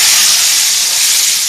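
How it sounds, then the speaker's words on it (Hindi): Hot garlic tadka poured over cooked lentils sizzles loudly, a dense, steady, close-up hiss filling the whole moment without a break. "अब मैं इसको हिला के ये दाल के ऊपर इस तरह सारा फैला के डालूंगी।"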